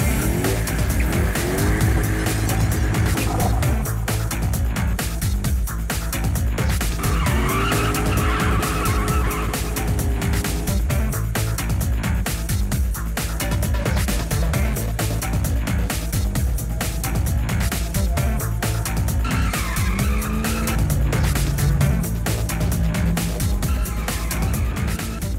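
A car is driven hard at the limit, its tires skidding and squealing in long sweeping bursts over a loud, steady engine note that rises and falls through the turns, with no talk.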